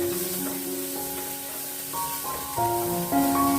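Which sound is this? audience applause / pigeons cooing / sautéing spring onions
sautéing spring onions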